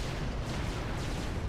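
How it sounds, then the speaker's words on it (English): Explosions in the Supreme Commander strategy video game, a dense continuous rumbling barrage of booms, fairly quiet and distant, with no talking. "Don't have explosions that big right next to my friend"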